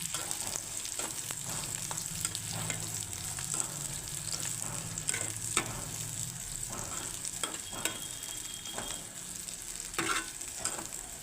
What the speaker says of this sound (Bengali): আমি পেঁয়াজ, আদা, রসুন সব একসঙ্গে ভেজে নেব।